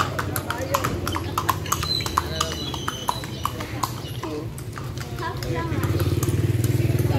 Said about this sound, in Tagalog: Guys, I'm so happy to see a horse.